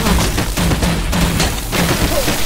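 Dense, sustained gunfire from the Batman: The Enemy Within video game, a loud continuous fusillade of overlapping shots with booming impacts throughout.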